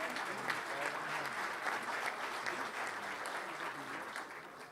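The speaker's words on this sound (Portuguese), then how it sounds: "e peço esse aplauso." Steady audience applause at a seminar fills the room, even and continuous from start to finish at moderate loudness, with no voices rising above it.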